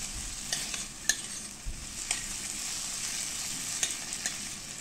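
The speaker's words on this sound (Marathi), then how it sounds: "असं मी परतवून घेते." Onion sautéing in a pan for sambar, a steady bright sizzle with occasional knocks and scrapes of the spatula, close and even, no voices.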